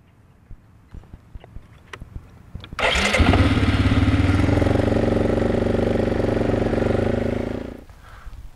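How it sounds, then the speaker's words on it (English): A four-wheeler ATV engine starts up abruptly and runs loud and steady at a slow, constant pace of about 4.1 miles per hour during food-plot sprayer calibration, then cuts off, with faint background sounds before and after. "our four-wheeler is traveling at the speed the speedometer says it is"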